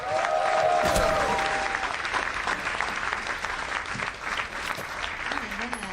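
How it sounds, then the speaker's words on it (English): Audience applause for a comedian at a comedy show, a loud, sustained wash of clapping that swells at the start and carries on steadily, with crowd noise and scattered cheers mixed in. "Big round of applause for Sarah Tolamash, everybody."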